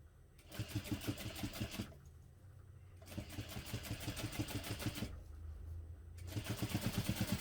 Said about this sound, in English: I'm just going to do a few stitches and back stitch, and I'm using my longer top stitching stitch length